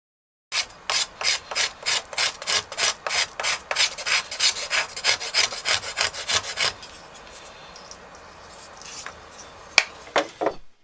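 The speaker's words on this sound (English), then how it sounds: "Using a scraper, you can remove very small amounts of material in order to soften the bow in specific places." A small flat steel scraper cut from a saw blade shaving wood along an English longbow limb, about twenty quick rhythmic rasping strokes, close and crisp, then a few scattered scrapes and taps.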